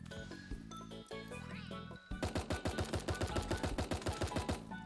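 Rapid SMG bursts in the cartoon battle game Super Animal Royale, a loud, even stream of sharp shots firing in quick succession after a stretch of animal bleats and game sounds.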